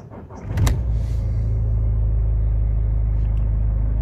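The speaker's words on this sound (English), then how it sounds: "if I turn on the engine" Mercedes-Benz A-Class W169 engine cranking with a brief burst, then settling into a steady, close, low idle rumble with no talk.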